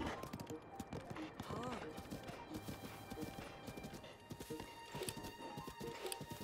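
Horse hooves clip-clop in a Zelda video game, a steady, fast rhythmic clopping that runs throughout, mixed with other game sounds and a voice.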